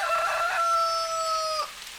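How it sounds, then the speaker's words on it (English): A rooster crows once in a long, sustained, high cock-a-doodle-doo that holds steady, then drops off sharply at the end. Loud and close, with nothing else around it. "he flapped the fan and bag by his sides as he yelled like a rooster."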